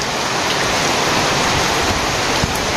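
Steady rain falls on a village home in early autumn, a dense, continuous wash of drops that stays loud and even throughout, with no voices.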